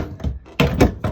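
The worn door of a 1968 Shasta Compact camper trailer is worked, giving several close, hollow thumps and rattles in quick succession.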